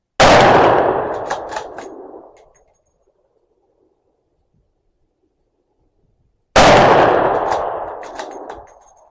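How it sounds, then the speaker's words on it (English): Two loud rifle shots from a Remington 783 chambered in .350 Legend, fired offhand without a rest at 50 yards, each a sharp blast with a long decaying echo, separated by about four seconds of silence. "see how it does without a rest and just normal shooting"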